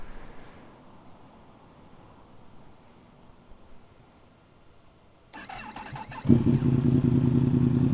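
A Yamaha MT-10 motorcycle engine with a half-titanium exhaust starts after a quiet stretch, then settles into a loud, steady rumbling idle with a couple of revs, close and unaccompanied by talk.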